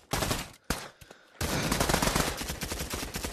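Rapid bursts of gunfire from Pavlov VR fill the scene, a loud volley, a brief gap, then a sustained stretch of dense, continuous shooting close by.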